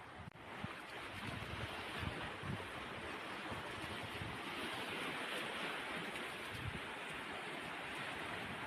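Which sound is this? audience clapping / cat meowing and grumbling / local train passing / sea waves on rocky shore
sea waves on rocky shore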